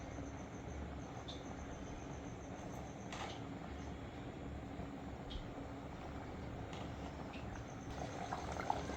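A pot of thick chicken salna curry gravy bubbles and simmers steadily, a continuous low burbling with occasional small pops, close and moderately quiet.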